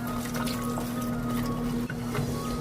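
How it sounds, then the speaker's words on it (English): A cup of water poured into a pan with Alfredo sauce for vegetarian Alfredo pasta, a brief steady liquid rush over a constant kitchen hum, with no talking. "Now add 1 cup of water."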